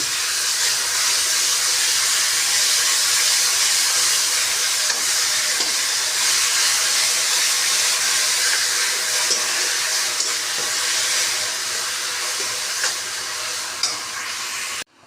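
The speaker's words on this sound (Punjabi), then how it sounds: "ਲਓ ਜੀ ਪਿਆਜ਼ ਆਪਣੇ ਭੁੱਜ ਗਏ" Onions with garlic, ginger paste and green chillies frying in hot oil, a loud continuous sizzling hiss that stays steady and close throughout before cutting off at the end.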